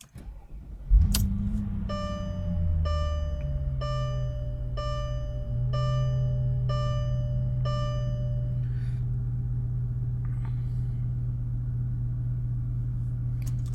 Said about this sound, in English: now you want to go ahead and start your vehicle for 10 seconds